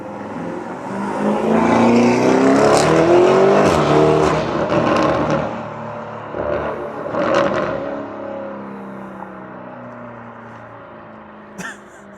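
A Lamborghini Urus V8 with an Akrapovic exhaust revs loudly as it passes close by, roaring then fading into a lower rumble, with a brief sharp blip near the end.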